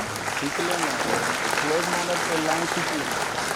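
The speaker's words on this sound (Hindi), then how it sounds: "मैं चाहता हूं कि जोरदार तालियों से उनका अभिनंदन करें" An audience at a school cultural event applauding to welcome the Chief Minister of Chhattisgarh, a dense steady clapping with a voice speaking over it throughout.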